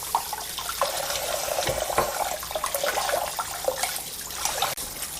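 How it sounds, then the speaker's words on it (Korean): Tap water runs steadily into a sink while pork back bones are rinsed for Korean gamjatang stew, a continuous close splashing stream with small clatters and no talk. "흐르는 물에 2번 정도 씻어줄게요."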